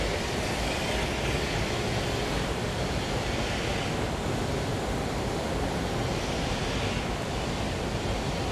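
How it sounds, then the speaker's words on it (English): At the Masumi sake brewery, a winch hauls rice to the steamers, making a dense, unbroken mechanical roar at high volume for the whole stretch, with no voices. "So the rice gets moved with the winch to the steamers."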